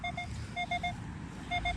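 Minelab X-Terra Pro metal detector giving target tones in a park, with short bright beeps in groups of two and three separated by pauses, over low background rumble at a fixed recovery speed of 3.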